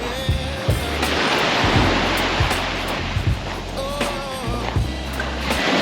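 Surf breaking on Espigon beach in Malaga, Spain, a continuous loud wash of waves with repeated low thumps and rushes, close by and with no talk over it.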